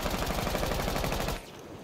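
Rapid automatic gunfire from a weapon in the tactical shooter Rainbow Six Siege, a dense continuous burst lasting over a second before cutting off, leaving a quieter tail.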